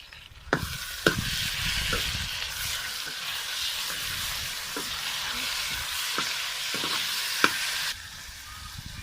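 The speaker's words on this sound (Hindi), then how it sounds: "इसमें अभी हम डालेंगे लहसुन और मिर्ची जो हमने काट के रखी थी, और टमाटर है साथ में।" Garlic, chili and tomato frying for karela keema, a steady close sizzle with a few sharp stirring clatters and spoon knocks scattered through, no talk.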